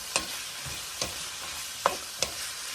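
Onion, garlic, red pepper and carrots sauté in a hot pan with a steady, close sizzle, broken by four sharp scrapes of a spatula spaced roughly half a second to a second apart; no voices.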